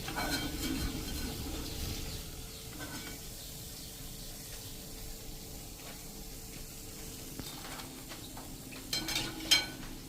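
Pieces of a wheat flour snack fry in hot oil with a steady, soft sizzle and hiss throughout, and a few utensil clinks toward the end.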